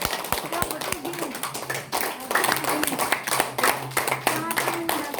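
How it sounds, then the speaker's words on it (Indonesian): Audience clapping hands at an Indonesian gathering, a run of sharp, uneven claps close by over several seconds while voices talk over them. "Yuk kita tepuk tangan betul yeah"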